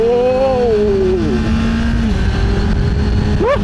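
Engine of an inline-four sport bike motorcycle revving loud and close, its pitch sliding down as the revs fall, then a quick sharp blip upward near the end.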